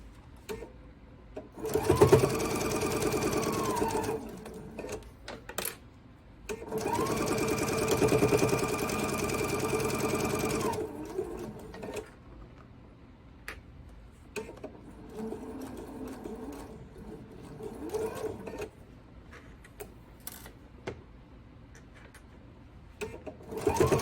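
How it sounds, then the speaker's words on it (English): A sewing machine stitching quilt block pieces in two long close runs of steady rapid whirring, then quieter shorter bursts with pauses and faint handling noises. "I'm going to sew until I'm almost to my pin."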